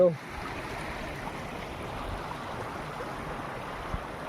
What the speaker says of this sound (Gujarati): આ સરસ મજાની નંદી હાલી જાય છે